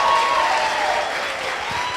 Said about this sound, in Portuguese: vamos receber com uma forte salva de palmas